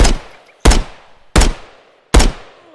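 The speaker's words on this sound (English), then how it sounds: "And I say that as I shoot somebody." Gunshots in the video game Exfil Zone: four sharp, loud single shots spaced a little under a second apart, each cracking and then decaying quickly into silence.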